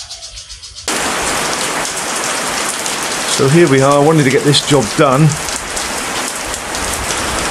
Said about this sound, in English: it's started chucking down the rain